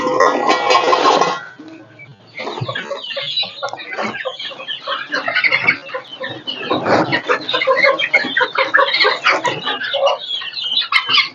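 Country chickens cluck busily in a coop, with a dense, close chorus of overlapping clucks and squawks that runs the whole way through.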